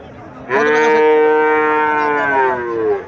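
A two-month-old Friesian calf at a cattle market lets out one long, loud, sustained moo lasting over two seconds, close by, with faint background murmur.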